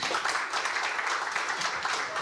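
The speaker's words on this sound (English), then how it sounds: "Could we give them another round of applause?" Audience at a book launch in Malaysia applauding the four speakers, a dense, steady patter of many hands clapping close by for a couple of seconds.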